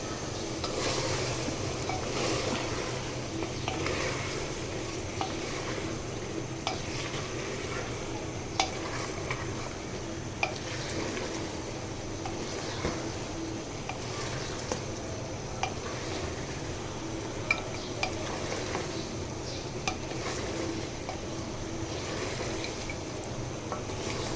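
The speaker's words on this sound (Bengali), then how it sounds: "ও আলুগুলো দেওয়া হয়নি আলুগুলো দিয়ে দিই আলু কেটে ধরে রেখেছিলাম" Cut potatoes tossed into a hot pan and stirred, giving a steady, loud sizzle with faint scraping and occasional light clicks throughout, no voices.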